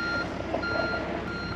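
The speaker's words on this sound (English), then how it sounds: "you can hear the beeping in the background" An excavator's reversing alarm beeps steadily in the background of a backyard building site, a repeating tone over a continuous engine rumble, moderately loud, no voices.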